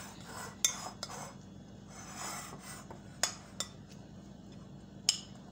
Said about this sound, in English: add my carrot onto the cabbage. I will mix it well.